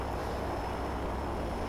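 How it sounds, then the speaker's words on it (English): A large plane's engine drones in the Left 4 Dead video game, a dense, steady roar that holds unchanged throughout. "the plane started up"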